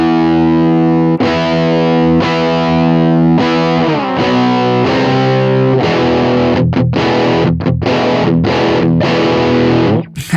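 An electric guitar driven through a Universal Audio Lion 68 Super Lead amp rings out in sustained distorted chords, then shifts to choppy, rhythmic palm-muted stabs near the end, loud and alone.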